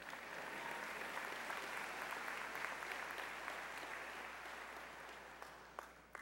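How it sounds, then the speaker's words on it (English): Sustained applause from a sizable commencement ceremony crowd, steady and dense throughout, with a few sharper claps standing out near the end. "Whoever started the applause on that end"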